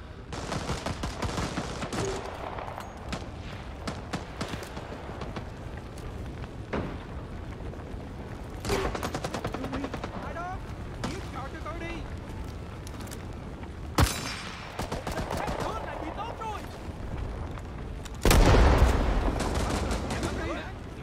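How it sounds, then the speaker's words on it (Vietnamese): Gunfire in the video game Rising Storm 2: Vietnam: bursts of rifle and machine-gun fire with scattered single shots and a heavy boom near the end, mixed with game battle noise and brief voices. "Bắn lại bọn chúng đi."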